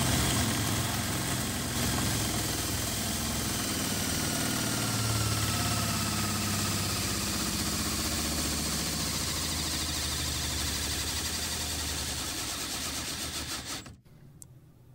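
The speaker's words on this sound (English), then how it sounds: "Now let's move on to torque testing with the M12 in high speed." A Milwaukee M12 installation driver runs flat out at high speed under a torque test, giving a continuous loud motor whine and buzz that holds steady for about fourteen seconds, then stops abruptly and leaves near silence.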